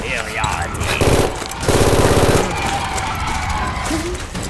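Loud, close bursts of rapid automatic gunfire from a war video game, with bullets clattering off an armored vehicle, crackle in two dense volleys over continuous battle noise and chaotic shouting voices.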